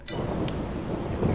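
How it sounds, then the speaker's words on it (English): Steady rainfall in Farming Simulator 22, a dense hiss of drops with a short crackle near the start, continuous and fairly close with no talk. "it's raining right now"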